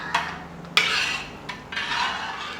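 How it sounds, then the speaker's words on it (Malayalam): Cooked sago is stirred into boiled milk in a pot for payasam, several short scraping and clinking strokes of a spoon against the metal with soft bubbling between them. "വേവിച്ച് വെച്ചിരിക്കുന്ന ചൗവരി കുറേശ്ശെയായിട്ട് ചേർത്ത് കൊടുക്കാം"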